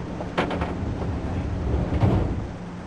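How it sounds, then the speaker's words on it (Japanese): Train doors slide shut in the Densha de Go 64 train driving game on the Omagari–Morioka route, a short pneumatic hiss and thud followed by a second closing burst, heard up close with no talk. "閉まるドアにご注意ください。"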